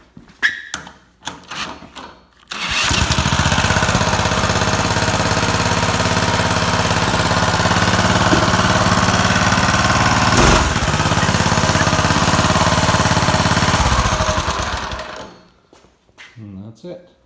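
Cheap go kart engine firing up after a few brief knocks, then running at a loud, steady rough idle for about twelve seconds before cutting off abruptly, with faint talk and clatter before and after.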